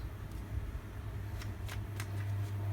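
Language of Flower oracle cards being shuffled by hand, a soft riffling with a few crisp snaps close by over a low steady hum, no talking.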